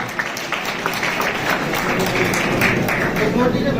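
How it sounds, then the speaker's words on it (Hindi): Audience applause at a political youth voters' conference in India, a dense, steady wash of clapping lasting several seconds, with crowd noise mixed in. "जोरदार तालियां।"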